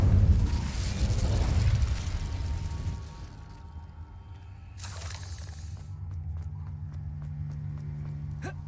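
Incendio fire spell in Hogwarts Legacy on PC, a loud crackling fiery blast that fades after about three seconds, followed by a sharp shattering crack and a quieter low hum with faint clicks.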